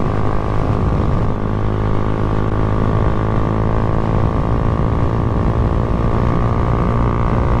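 Honda Grom motorcycle engine held steady at high revs while riding flat out, a loud continuous drone with strong low harmonics and constant wind rush throughout.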